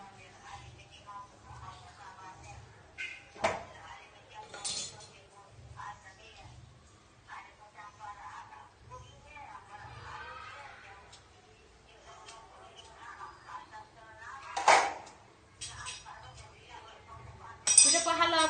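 Dishes being washed and scrubbed by hand with soap and water, soft clinks of glass and crockery at close range, scattered irregular knocks with louder clatters, while people talk throughout.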